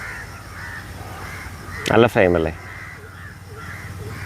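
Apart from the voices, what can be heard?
flock of crows cawing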